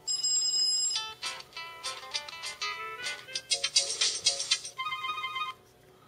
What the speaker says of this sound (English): there's a whole bunch of new ringtones that I guess came with